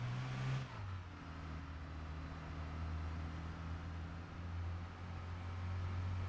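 A car driving in Arma 3, its engine holding a steady low drone with a small shift in pitch near the start, running on without pause and with no voices.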